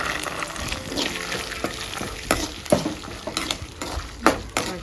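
Green peas frying and being stirred in a pan for samosa filling, with a steady sizzle and repeated scraping stirs of the spoon, close and alone.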